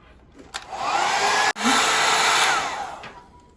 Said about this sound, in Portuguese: E eu passo o secador mais uma vez e deixo ele assim